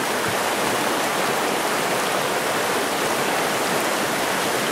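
Fast-flowing stream water rushes past a deep fishing hole, a steady, loud broadband roar of churning current with no talking.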